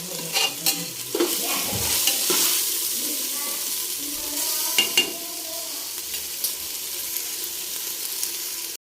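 Ginger garlic paste for chicken curry fries in hot oil, a close and bright sizzle broken by repeated scraping and stirring strokes of a spoon against the pan, louder in the first seconds and then settling into a steady crackle.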